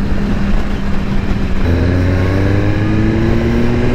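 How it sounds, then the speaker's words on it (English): A BMW S1000RR motorcycle engine revs upward at a Daytona Bike Week gathering, its rising whine climbing steadily in pitch and staying loud and close for several seconds. "Try to get this thing higher up in RPMs."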